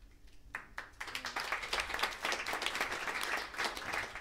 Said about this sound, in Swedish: publiken som, ja, jublar och applåderar